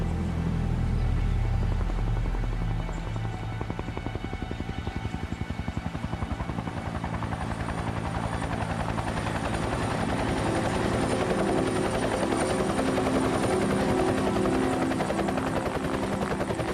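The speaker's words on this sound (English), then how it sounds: "helicopter's still one of my favourite sounds" Loud, continuous rhythmic thumping of a helicopter's rotor close overhead, steady for the whole stretch with no talking.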